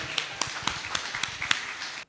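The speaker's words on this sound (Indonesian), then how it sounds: "Berikan tepuk tangan dong bagi Andrian." Sparse, light hand claps from a small audience at a speech event, applauding for Andrian; a handful of separate taps spaced unevenly, fairly faint and thin rather than a full ovation.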